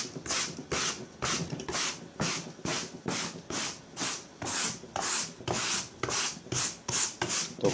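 Soft brush scrubbing old glue off a car headliner, steady back-and-forth rasping strokes in an even rhythm, close and clear with no talking.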